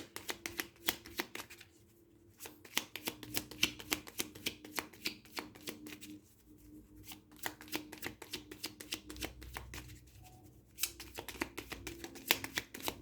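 A deck of tarot cards being shuffled up close, with rapid crisp riffles and flicks in bursts separated by short pauses, no talking.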